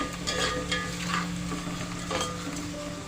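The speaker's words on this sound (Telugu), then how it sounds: "ఇప్పుడు ఉప్పు పసుపు వేసాం కాబట్టి ఇంకా తొందరగానే ఉల్లిపాయ అనేది వేగుతుందండి" Onions fry with salt and turmeric in a pan, giving a steady close sizzle under repeated scraping stirs of a spoon.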